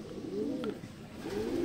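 A racing pigeon, freshly arrived at its loft after a derby race in Catanauan, Quezon, gives two soft, rolling coos close by.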